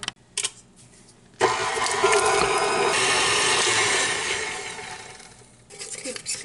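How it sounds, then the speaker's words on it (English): An electric mixer beats butter and cream cheese together, a loud steady whirring hum that starts abruptly and runs for about four seconds before cutting off, with brief handling knocks around it. "Okay, I'm gonna add my cream cheese and we're gonna beat these together."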